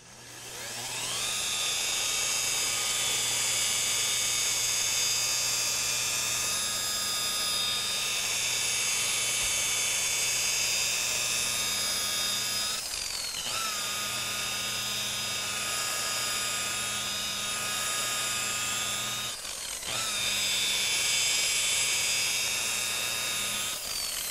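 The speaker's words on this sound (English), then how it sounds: "show you some techniques of buffing here" A buffing pad polishes a car's painted panel, a loud, close, continuous machine whine that holds steady for over twenty seconds, broken only by two brief dips, with no talking.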